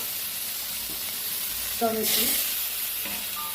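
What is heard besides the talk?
stirring frying spices in a pan for fish curry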